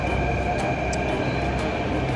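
Delhi metro train running with a steady low rumble and a sustained high tonal whine, close and constant, with faint clicks and no speech.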